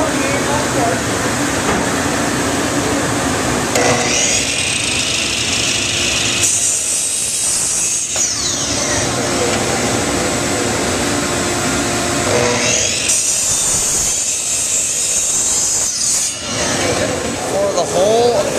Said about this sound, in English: Now you want to make sure your bandsaw's straight and everything's ready to cut.